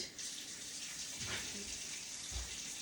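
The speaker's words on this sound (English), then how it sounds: "Let me get my hot water going, and" Water runs from a tap in a soft, steady stream, with a couple of faint clunks in the background.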